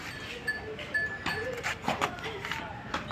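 At a livestock market, a young, pregnant Punjabi-breed goat bleats in short, wavering calls. The calls are mixed with talk and busy background noise from the crowded market.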